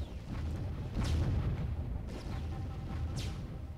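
In the Warzone video game, a laser satellite fires with a loud, continuous booming rumble and sweeping, zapping whooshes that rise out of it, dense and unbroken, with no talking.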